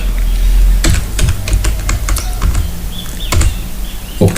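Someone types on a computer keyboard, pressing symbol keys while holding Shift: sharp, close key clicks arrive in an irregular run, some singly and some in quick pairs, over a steady low room hum.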